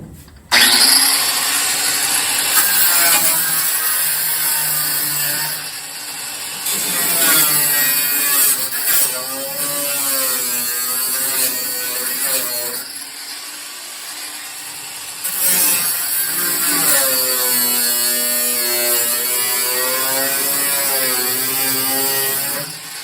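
A cutoff wheel screams through thin, rusty sheet metal of a 1968 Pontiac Firebird trunk floor, loud and close, with rising and falling whines in several long passes separated by brief pauses.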